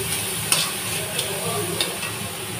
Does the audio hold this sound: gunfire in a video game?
no